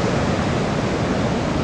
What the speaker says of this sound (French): des vagues aux alentours de 2 mètres 50 en moyenne